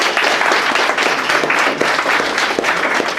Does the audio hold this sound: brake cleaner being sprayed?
no